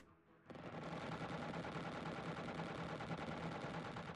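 Aircraft weapons fire during an interception in Xenonauts, a continuous rapid machine-gun stream that starts abruptly after a brief quiet moment and keeps a steady, even rattle to the end.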